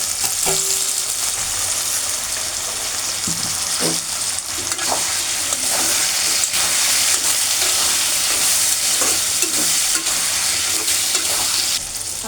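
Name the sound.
shrimp frying lightly in a pan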